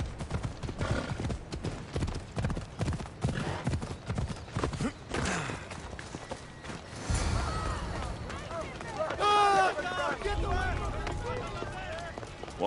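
Horse hooves clip-clop quickly in Assassin's Creed Odyssey, close and busy, broken by a whinny and other game sounds.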